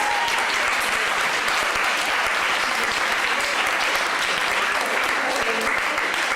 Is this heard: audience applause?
yes